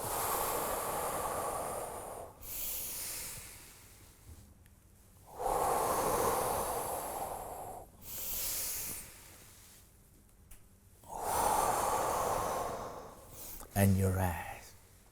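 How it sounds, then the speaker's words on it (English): Slow, deliberate breaths during a guided breathing exercise, long loud exhales and inhales alternating with quieter pauses, close to the microphone, with spoken instructions between them. "Exhale. Inhale."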